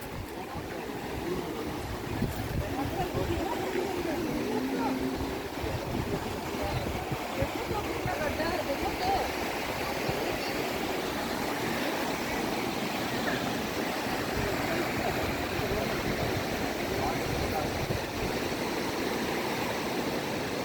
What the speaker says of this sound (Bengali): নদীতে জল বয়ে যাচ্ছে।